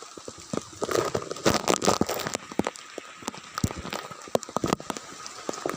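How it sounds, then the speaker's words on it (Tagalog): Heavy rain falling on an open rural farm field, a dense continuous patter with scattered sharper drops and splashes, steady and fairly close, with no voices. "Kasi malakas po yung ulan."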